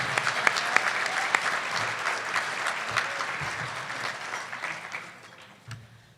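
Audience applause fills a banquet room at El Conquistador Tucson after a luncheon meal, a steady dense clatter of many hands that holds for several seconds and then thins and tapers off toward the end.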